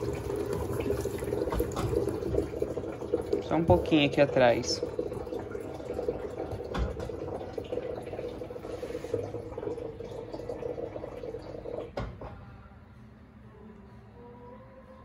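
Water pouring and splashing into the tub of an Electrolux Turbo compact 7 kg washing machine while it washes rugs, a steady rushing flow that stops near the end, with a brief spoken remark in Portuguese.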